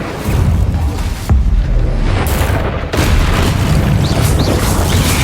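Confringo and Incendio fire spells blasting in the game Hogwarts Legacy: heavy, loud booming explosions with sharp onsets around one and three seconds, then dense rumbling fire that continues without speech.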